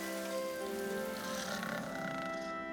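Steady rain falls on a surface in a cartoon train setting, a continuous hiss with faint tonal hum beneath, no voices.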